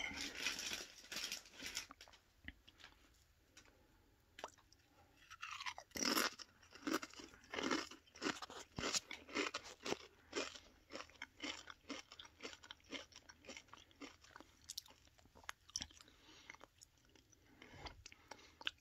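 Spicy sweet chili chips crunch loudly and close up as they are bitten and chewed, in repeated crisp bursts with brief pauses between mouthfuls.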